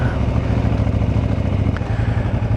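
A motorcycle with a worn clutch that graunches going into gear runs steadily up close, its loud, continuous engine note carrying a low rhythmic throb with a faint clatter, and no one speaks.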